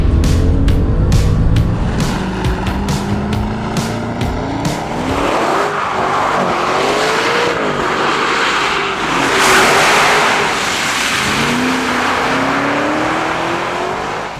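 A Maserati Ghibli 334 Ultima V8 roars loud and close as it revs hard and climbs through the gears, with rising and falling engine pitch, crackling pops at the start and tire squeal mixed in, with no talking.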